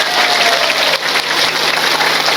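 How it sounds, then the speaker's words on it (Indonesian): Audience applause at an Islamic religious lecture, a dense steady wash of clapping that fills the whole moment without a break, loud and close, with no talk over it. "Tepuk tangan dulu dong"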